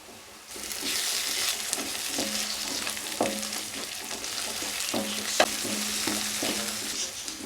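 Ginger garlic paste sizzles in a hot pan for a masala curry, a continuous close frying hiss broken by repeated scraping stirs.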